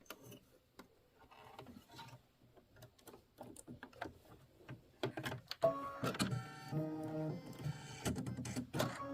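A Kimberbell quilting embroidery machine stitches with rapid mechanical tapping and rasping, quiet at first and then louder and denser with a whirring motor tone, close by, with no voices.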